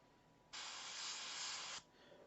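A single steady airbrush spray hiss lasting just over a second, close and fairly quiet, starting and stopping abruptly over a low background hum.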